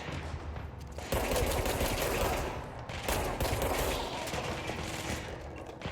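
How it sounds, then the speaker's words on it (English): Dense enemy gunfire fills a corridor in the video game Control, a loud sustained barrage of rapid automatic bursts with brief dips between volleys. "Yeah, keep shooting at me,"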